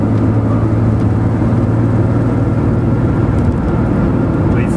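A Porsche 911 Carrera 3.2 with a SCART exhaust holds steady revs, giving a loud, continuous low engine drone with a deep exhaust rumble, constant throughout and heard from close by.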